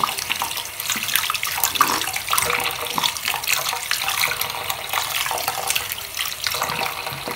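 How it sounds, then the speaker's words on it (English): Water sloshing and splashing steadily in a bowl as small plastic body oil tubes are rinsed free of soap suds, a continuous moderately loud wet churning with no talking. "I'm gonna wash them out, make sure every soap suds is out of it."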